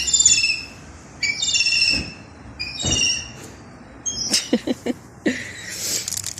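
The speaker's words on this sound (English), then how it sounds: "that's the seagulls yipping to each other" Seagulls call back and forth in repeated high, yelping cries with short pauses between them, loud and fairly close, followed by a few quick sharp yips near the end.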